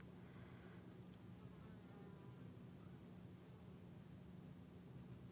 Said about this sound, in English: The stupid fly is buzzing around my house.